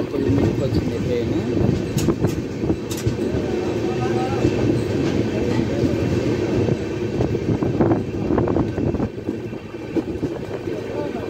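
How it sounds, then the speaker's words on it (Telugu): Express train number 12194 from Kacheguda to Yeswanthpur pulling into platform 9 of a station, a continuous low rumble of rolling cars with scattered clanks and squeals, moderately loud and steady. "ప్లాట్ఫామ్ నెంబర్ 9కి వచ్చింది ట్రైన్."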